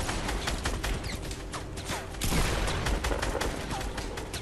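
Gunfire from the game Fortnite Battle Royale, rapid bursts of shots crackling densely over several seconds, loud and overlapping, with faint game ambience underneath.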